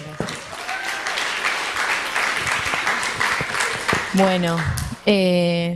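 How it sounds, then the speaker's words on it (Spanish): An audience at a women architects' meeting applauds, steady clapping with some voices mixed in, then a short tonal ring and a sustained electronic tone near the end. "Un aplauso para ellas, por supuesto."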